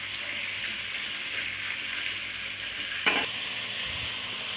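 Dried red chillies, five of them, frying in a pan for tomato chutney: a steady broad sizzle runs throughout, with one sharp scrape of stirring near the end, close and fairly loud.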